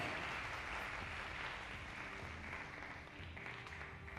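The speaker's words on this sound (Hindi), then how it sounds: "जोरदार ताली। A big hand of applause." A church congregation claps together, a faint, steady wash of applause with no single claps standing out, continuing unbroken and then easing slightly toward the end.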